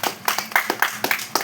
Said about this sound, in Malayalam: ക്ലാപ്പ് ചെയ്യഎല്ലാരും.